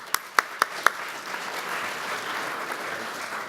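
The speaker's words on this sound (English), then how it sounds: "Please give me a warm applause for Stephen Short." A television studio audience applauds an entrepreneur: four sharp, close claps ring out at the start, then settle into a softer, steady wash of clapping from the crowd.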